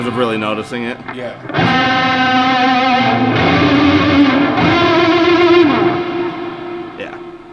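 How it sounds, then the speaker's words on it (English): An electric guitar played through an Earthquaker Devices Ledges reverb pedal in plate mode rings out in sustained, distorted chords with a lush, blended reverb tail, loud and close, with a voice speaking briefly at the start. "it sounds good and it blends like a plate reverb"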